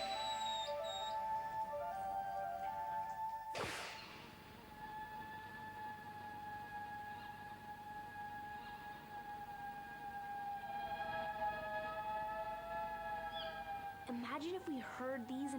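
Golden lion tamarins give thin, high, sustained whistling cries that rise and waver over a steady hiss, with a sharp click partway through and a brief chirping flurry near the end.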